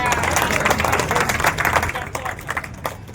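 An audience clapping at a walking competition event: dense, close applause that is loud at first and then thins into scattered claps toward the end.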